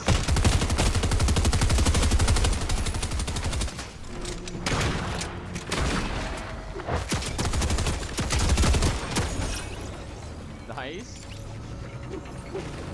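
Rapid automatic gunfire in Fortnite, dense bursts crackling loudly at the start and again mid-way, with mechanical clicks between volleys and a voice talking over parts of it.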